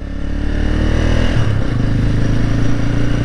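A 2019 Genuine G400C cafe racer motorcycle shifts up through its gears, the engine droning loud and close, dipping briefly at a gear change then pulling steadily again.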